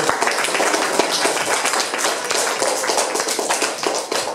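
An audience applauds at a contest event, a dense and steady patter of many hands clapping nearby without pause.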